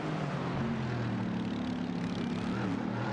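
A racing car's engine drones in the iRacing sim during a Motorsport Australia esports race, a faint, steady hum held without a break and with no talk over it.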